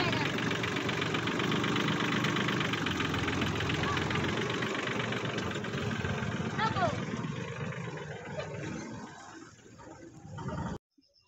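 A farm tractor's engine idles with a steady knocking diesel chug that slowly fades before cutting off abruptly, while people talk nearby.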